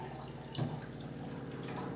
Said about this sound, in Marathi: आले नळ चालू होता म्हणून कळालं, बोर चालू केला वाटतंय